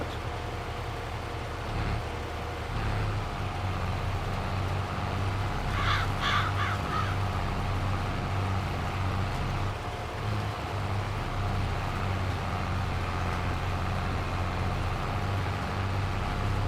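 A farm machine's engine in Farming Simulator 22 hums at a low, steady idle throughout, with a few cawing crow calls breaking in partway through and no speech over it.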